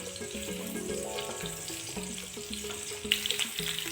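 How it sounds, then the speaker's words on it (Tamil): Ginger and garlic sautéing in oil in a pan make a quiet sizzle with soft clinks and scrapes of stirring, and a few sharper ticks near the end. Faint and close, with no voices. "இஞ்சி, பூண்டு வதக்கிக்கலாம்."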